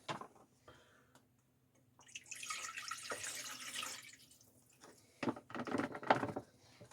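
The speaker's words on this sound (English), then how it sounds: "put in a pouch of my favorite negi shio broth" Negi shio broth being poured from a pouch into a pot, heard as a steady liquid splashing stream, close and soft, followed by a few brief clinks and drips.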